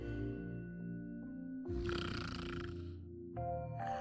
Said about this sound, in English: Of course you snore.